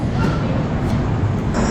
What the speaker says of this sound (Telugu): ఝాన్సీ స్టేషన్లో ట్రైన్ ఆగింది